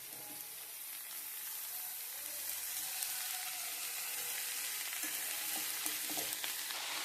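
Bell pepper sizzling in a pan as it fries, a steady bright hiss with occasional soft clicks and scraping as the pieces are stirred, no voices over it.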